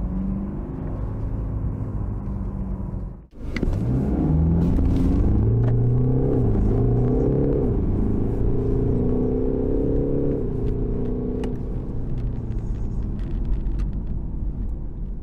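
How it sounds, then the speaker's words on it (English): A 2021 BMW 420d with a four-cylinder diesel engine accelerates, a steady rumbling drone heard from inside the car, rising in pitch after a brief dip, partly enhanced through the speakers. "It's quite a classic four-cylinder diesel sound, and there's definitely a little bit of fakery coming through the speakers."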